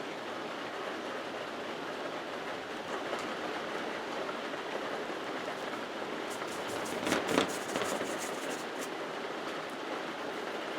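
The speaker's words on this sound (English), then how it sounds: "Can you hear that rain?" Steady rain hisses evenly and fairly loudly at Lands End, a broad continuous wash with a brief burst of crackling patter near the middle, no voices present.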